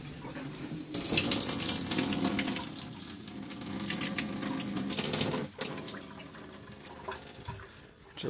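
Hot water gushes steadily from a tap, a continuous splashing rush that starts abruptly and runs on with small drips and clatters near the end.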